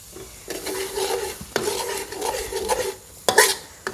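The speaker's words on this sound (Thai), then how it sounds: "โดยเรายิ่งผัดเนี่ยน้ำพริกก็ยิ่งหอม" Thai green curry paste stir-fried in a pan for chicken green curry, with a steady scraping and stirring rhythm over a soft sizzle, a few louder clanks of the utensil against the pan, and no talking.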